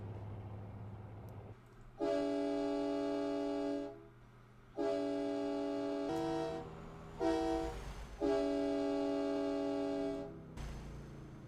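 A Mack R700 truck's air horn in American Truck Simulator sounds in several long, loud chord blasts with short gaps between them, over a low engine rumble.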